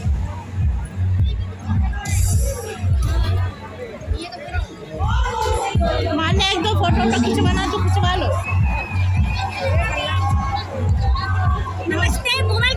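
Busy crowd hubbub at a festival in Balrampur: steady dense chatter and babble of many voices close around, with occasional shouts and cheers, while nearby people talk over it.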